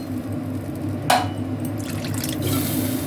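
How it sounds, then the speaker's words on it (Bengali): Water is poured into a pan of Bengali-style crab curry, a short splashing gush followed by a low, steady liquid hiss and bubbling over background hum. "আপনারা যেমন খাবেন সেরকম জল দেবেন"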